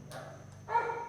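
A dog barks faintly in the background of a quiet room, a couple of soft yips with the second bark slightly stronger.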